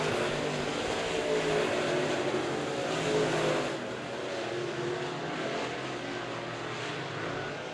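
B Modified race cars roar around Monett Motor Speedway during a heat race, a dense, continuous engine drone that swells loud and then eases slightly as the pack passes.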